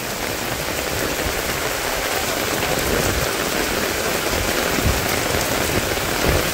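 Steady, heavy rain drums on the corrugated tin roof of a village house in rural Bangladesh during the rainy season, a dense, unbroken wash of patter close by with no voices.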